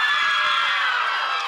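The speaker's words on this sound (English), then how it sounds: "notice how high-pitched those squeals are?" High-pitched squeals and cheers from a high school audience, a dense continuous crowd roar of mostly young voices, loud and sustained without a break.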